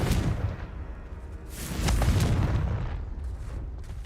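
A Confringo spell from Hogwarts Legacy goes off with a loud, broad fiery blast, followed by a rumbling swell and a fading crackle.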